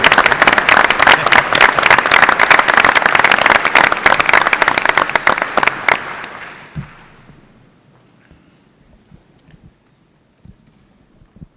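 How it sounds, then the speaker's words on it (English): A large audience at a shareholder meeting claps in dense, loud applause for about six seconds before it thins out into a few scattered claps and near silence. "And if we could have a round of applause."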